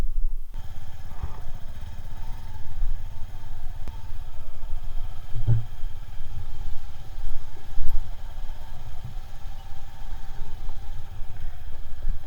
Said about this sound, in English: Let's ride this beautiful machine and tell you how this particular bike performs.